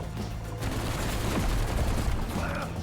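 Rapid gunfire from the Badlands Revolver in Black Ops 7 Zombies, a dense, continuous stream of loud shots blurring into a roar with booming impacts, no pauses across the stretch.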